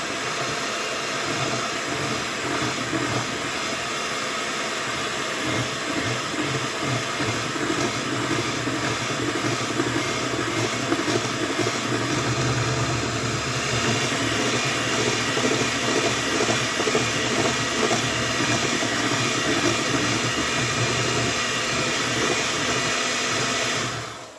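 An electric mixer steadily beats coconut cake batter with flour in a bowl, a constant close whirring drone lasting throughout with no voices.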